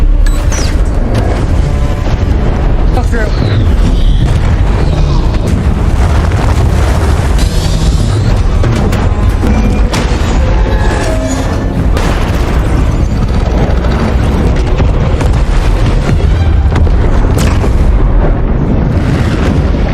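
Continuous loud rumbling blast from a film explosion with deep booming roar and crackling debris, sustained and dense throughout without any voices.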